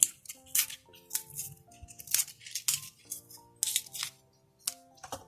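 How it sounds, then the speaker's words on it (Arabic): Taro leaves are snipped off the stems for a cooking recipe, a series of quiet, crisp cutting snips in irregular bursts over soft background music, with no talking. "انا هاخد الورق، بصوا اقطعه معاكم تاني"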